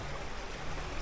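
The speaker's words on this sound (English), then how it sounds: "A little babbling brook." A small babbling brook near a rotunda in the Australian town of Walhalla, its water running in a steady, soft, continuous trickle with no voices.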